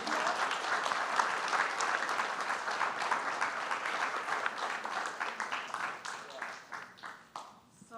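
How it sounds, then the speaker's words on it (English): Audience applause for young people at a side event of the TICAD7 conference, a sustained round of clapping from a sizeable crowd that holds steady and then thins out into scattered claps near the end. "Shall we clap for them?"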